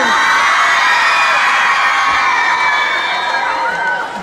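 Audience welcoming a guest onto the stage at a live radio show, loud sustained cheering, whoops and high-pitched shouts from a large crowd, slowly fading at the end.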